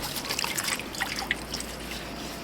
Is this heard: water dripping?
yes